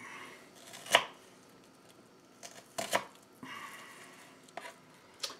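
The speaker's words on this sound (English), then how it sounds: "I always try to use segments of the onion to my advantage, so I only have to slice so much." A knife slicing through an onion on a cutting board, a handful of crisp, separate cuts spaced irregularly with quiet gaps between, close and fairly faint, no talking.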